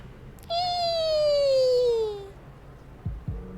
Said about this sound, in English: is it making cat activation noises?